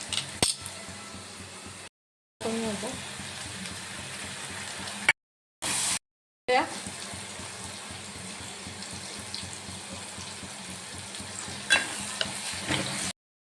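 Chopped tomatoes stirred into softened onions frying in a pan for a Marathi prawn curry, a steady broad sizzle with scraping stirs and occasional utensil clinks, close and continuous apart from a few brief silent gaps.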